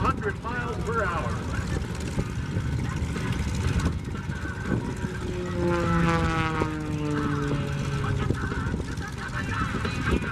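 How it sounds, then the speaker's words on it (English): A propeller aerobatic airplane flies an inverted loop at the Oshkosh airshow, its engine droning steadily with pitch shifts as it accelerates, heard under a crowd and a commentator talking over the loudspeakers. "As he accelerates and turns that altitude into energy, the aircraft accelerates to over 200 miles per hour."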